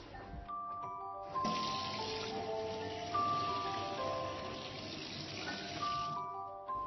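Tap water runs steadily into a sink as an oiled plate coated with dish detergent is rinsed, a continuous close splashing stream with faint clinks of the dish.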